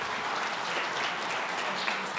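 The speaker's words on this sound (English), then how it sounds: "Let us give a big round of applause." A lecture audience gives a steady round of applause after a memorial lecture, dense and even clapping filling the whole moment with no voices.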